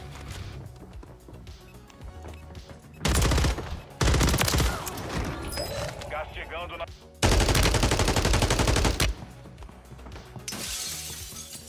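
Bursts of automatic SCAR-H rifle fire from a Warzone match come in several loud, sustained volleys separated by short pauses, with lighter mechanical clatter between them and quiet background sound.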